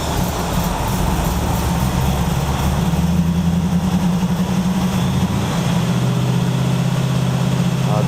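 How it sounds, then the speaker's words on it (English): A 1969 Pontiac Firebird V8 with a lopey cam idles steadily just after its first start, a continuous low rumble holding close and loud, with a slight shift in tone near the end. "The engine ran really nice and smooth, even with the Lopi cam."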